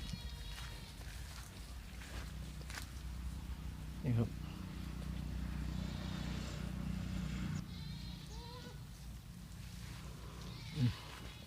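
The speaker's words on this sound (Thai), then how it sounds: "แพะมากมายเหลือเกินครับ มาชมบรรยากาศกันนะครับ" At a goat market farm in Erawan district, goats give scattered bleats, a couple of them short and distinct over a steady crowd murmur and shuffling, with people talking in the background.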